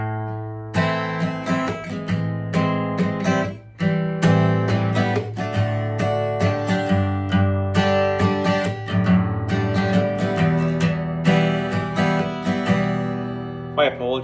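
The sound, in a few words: acoustic guitar playing a song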